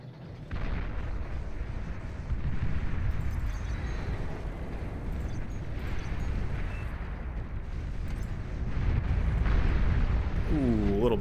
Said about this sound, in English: a little bit of a bombing run coming in hot